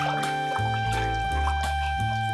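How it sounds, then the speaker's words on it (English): Green mango juice poured from a container into a jar, a close, steady liquid stream with faint drips, over a sustained low hum with no voices. "I'm going to pour this into my jar."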